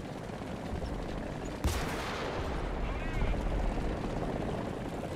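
Artillery fire in the tank battle game War Thunder: a sudden heavy blast followed by a rolling, roaring rumble, all set within a dense, continuous wash of combat noise.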